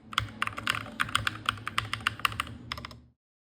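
Typing on an Akko TAC75 HE mechanical keyboard, a quick run of crisp, close clacking keystrokes in an uneven rhythm for about three seconds, then silence.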